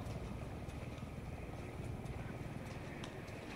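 A helicopter in the survival-horror game Resident Evil 7 drones with a steady rotor thrum under game ambience, a continuous low rumble with faint rhythmic chopping throughout.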